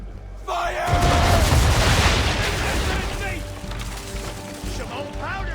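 Ship cannons fire in a naval battle in Assassin's Creed III, one heavy boom followed by a rolling barrage of blasts and crashing impacts, with a voice giving orders over the din.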